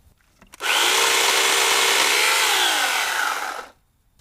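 A Harbor Freight 14-inch electric chainsaw starts up and runs at a steady, loud, high-pitched whine for about three seconds, then cuts off, alone with no talk.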